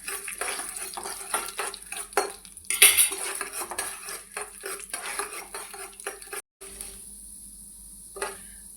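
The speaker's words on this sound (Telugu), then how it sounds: "తర్వాత 2 స్పూన్ల పచ్చిశనగపప్పు తీసుకున్నాం కదండి, అది కూడా వేయించుకుందాం." Chana dal roasting in a pan for curry leaf powder brings busy metallic scraping and clinking of a spoon stirring against the pan, close and irregular, with a brief hush near the end.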